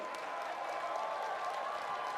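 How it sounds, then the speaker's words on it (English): Steady, dense applause from a large comic convention panel audience in Kansas City, many hands clapping at once in a continuous wash of sound. "Please give a big round of applause, Giancarlo Esposito."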